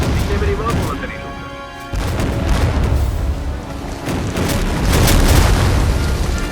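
Artillery fire and explosions in the WWII strategy game War Front: Turning Point, a dense, loud barrage of booms and rumbling blasts running throughout, with voices speaking over the combat.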